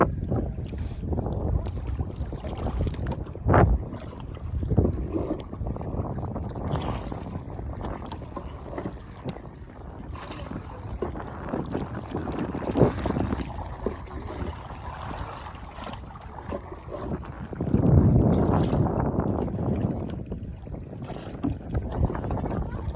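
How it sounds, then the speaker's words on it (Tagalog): Rough, gusty wind buffets the microphone continuously on a boat ride in Bicol, with louder surges and a low rumble of water and boat movement underneath. "Lakas ng hangin na yun."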